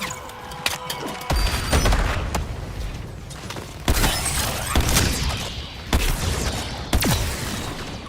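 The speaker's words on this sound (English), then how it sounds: "Airstrike!" Airstrike explosions in Suicide Squad: Kill the Justice League crash down in a series of loud, sharp blasts about once a second, each followed by rumbling debris.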